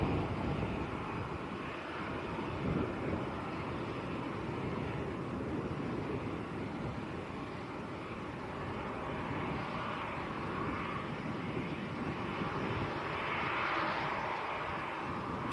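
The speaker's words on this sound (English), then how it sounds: "Right, Gulf Air to Bahrain, next to go." Gulf Air jet departing Manchester Airport for Bahrain, a faint, distant engine rumble and hiss that stays steady throughout with some wind noise over it.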